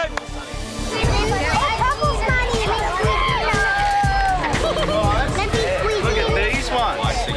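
Crowd of kids rushing a cupcake station at a birthday party, loud excited chatter, shouts and running footsteps overlapping in a dense hubbub, with children's voices squealing above the general babble throughout.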